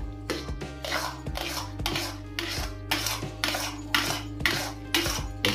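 Black chickpea halwa cooked with ghee is stirred in a pan with a spoon, producing rhythmic repeated scraping strokes against the metal about twice a second, close up and steady, with no talk.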